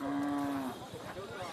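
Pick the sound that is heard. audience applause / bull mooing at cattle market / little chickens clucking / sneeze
bull mooing at cattle market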